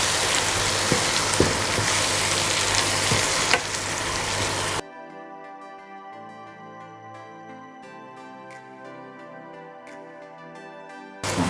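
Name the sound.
stirring and sizzling spices with chilies, turmeric, garam masala in pan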